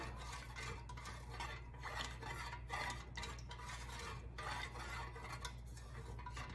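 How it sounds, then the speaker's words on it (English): Melted soy wax tinted purple being stirred for wax melts, a quiet continuous scraping and stirring with a low steady hum underneath, no voices. "So I'll mix that all together."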